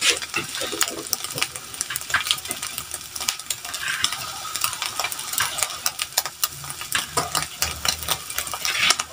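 Onion and garlic fry in a pan, a continuous crackling sizzle with stirring scrapes and small clinks, steady and fairly close, with no voices.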